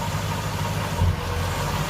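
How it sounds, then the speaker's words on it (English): The V8 engine of a Nissan D22 Navara idles with a fault, a steady close low rumble broken by a single brief stumble partway through. "You heard a misfire then."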